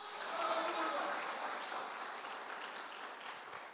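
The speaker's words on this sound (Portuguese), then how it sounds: "dê as palmas para o Senhor" A church congregation claps together during a Portuguese-language worship service, a broad, steady wash of applause that swells early and then slowly thins, with a voice faintly audible over it.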